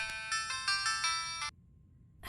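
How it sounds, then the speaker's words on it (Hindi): A mobile phone rings with a bright, loud electronic ringtone in several repeated bursts for about a second and a half, then cuts off, leaving a quiet room. "लगता है अभी आपका फोन है।"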